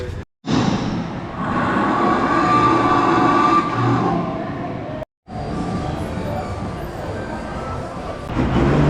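Loud, continuous traffic rumble with engines droning and passing vehicles at the Centra Norte bus station in Guatemala, briefly cut off twice, filling the space around a busy roadside.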